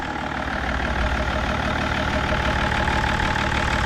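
An older car's engine idles steadily close by, a continuous low rumble with a mechanical hum and no talking, the engine neither run in nor freshly oiled.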